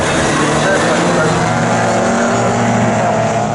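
Pre-1966 Mini touring cars race at Snetterton, their engines droning loudly and steadily as they run close together, under a commentator talking throughout.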